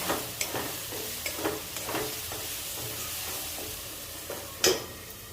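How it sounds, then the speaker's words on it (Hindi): Garam masala powder is stirred and fried in a pan: a soft continuous sizzle with regular scraping strokes of a spoon, fairly quiet and close, ending on one sharper scrape. "और इसे अच्छी तरीके से मिक्स कर देती हूँ"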